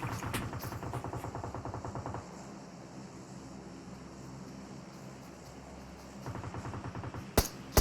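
Rapid automatic rifle fire in PUBG Mobile, two dense bursts of quick shots at the start and near the end with a quieter stretch between them, capped by one louder sharp crack.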